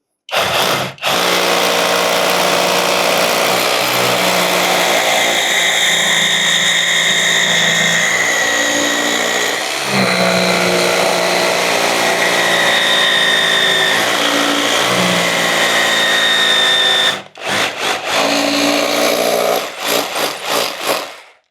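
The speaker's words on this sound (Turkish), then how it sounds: "Şu an darbeli delme modunda deliyorum." An Assur cordless hammer drill in hammer mode grinds into concrete continuously for about seventeen seconds, loud and close, then stops and restarts in a few short bursts.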